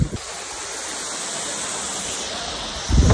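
Lagaan Falls waterfall on Siquijor, a steady broad rushing roar of falling water heard up close, loud and constant, with a brief bump of handling noise near the end.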